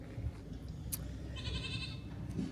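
A goat bleats once in a pen on a rural property, fairly faint and wavering over a steady low rumble of outdoor background noise, with no talking.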